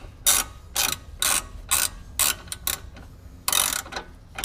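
Ratchet tightening bolts during a Rock Krawler 2.5-inch lift kit install on a 2015 Jeep Wrangler Willys, giving short close bursts of rapid clicking, about eight in a row with brief gaps.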